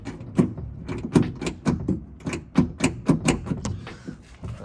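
Fox Body Mustang drift car doors being shut during a fit test after door handle replacement, a rapid series of about a dozen sharp knocks and thumps, close and fairly loud, with no talking.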